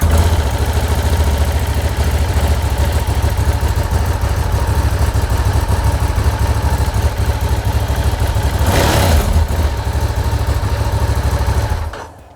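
A 2016 Ducati Diavel motorcycle engine idles loudly and steadily up close, with a deep, even rumble that holds for about twelve seconds before cutting off abruptly.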